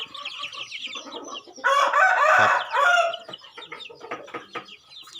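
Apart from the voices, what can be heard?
gamecock chickens clucking and crowing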